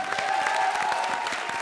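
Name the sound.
audience applause for Vikalp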